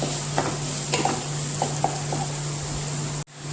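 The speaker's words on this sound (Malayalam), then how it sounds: "അതിലേക്ക് സവോള ചെറുതായി അരിഞ്ഞത് ചേർത്ത് കൊടുക്കാം. നന്നായി ഇളക്കി കൊടുക്കുക." Finely chopped onion frying in a pan and being stirred: a steady sizzle with a few soft scrapes of the spoon, close up, ending in a sudden cut to near silence.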